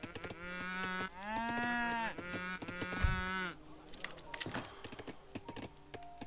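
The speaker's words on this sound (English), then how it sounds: "I'm never gonna get those cows out of there." Cattle lowing in Age of Empires 3 during a Swedes versus Germany match, several long harmonic moos in a row, loud and close, followed by game clicks and unit clatter.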